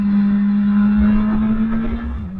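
A BMW S1000RR sport motorcycle lapping a race track holds a steady, droning engine note close to the microphone, with rumbling road and wind noise and no talk.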